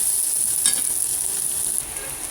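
Ground pork giniling stirred and sizzling in a pan with onion, salt and pepper, a steady bright hiss with a brief scraping stir partway through, no voices.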